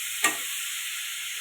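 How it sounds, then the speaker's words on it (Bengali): Ginger paste, cumin powder, coriander powder and sugar sautéing in a pan for a potato and squash curry: one short scrape or clatter, then a steady, soft sizzling hiss that carries on alone. "দিয়ে মশলাটা ভালো করে কষিয়ে নিব।"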